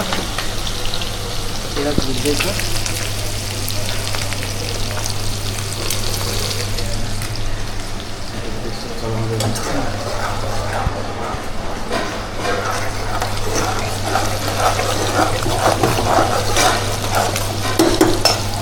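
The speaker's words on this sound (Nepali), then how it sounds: "यतापट्टि चाहिँ हाम्रो प्याज हुँदैछ" Onions frying in a pan, a steady close sizzle with stirring and clinks of a utensil, while people talk over the cooking throughout.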